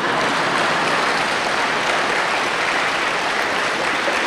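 Audience applause during a Buddhist monk's dharma talk: a continuous, dense wash of clapping from a large crowd, loud and steady throughout with no pause.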